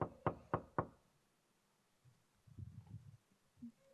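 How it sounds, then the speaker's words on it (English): Three sharp, evenly spaced knocks on a door, close and distinct, followed by soft low shuffling or footstep-like thuds and faint rustling. "If you saw me walking up and then the knock came"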